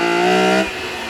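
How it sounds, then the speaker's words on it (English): A BMW E46 M3 CSL engine revs hard as the car accelerates out of a corner, giving a loud, close, rising harmonic howl that drops off abruptly near the end as the throttle eases. "Got all those revs to play with, and accelerating out of a corner of the diff just does its job."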